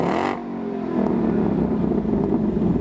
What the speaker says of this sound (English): Although I don't know too many details about the engine, they have allowed us to start it.